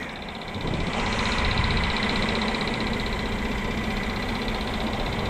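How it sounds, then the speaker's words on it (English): The V6 engine of a 2015 Mercedes-Benz E350 4MATIC runs steadily at idle up close, a smooth, even hum with a slight rise in level after the first second, no speech. "So here we have the V6. It's mated to the 7-speed automatic."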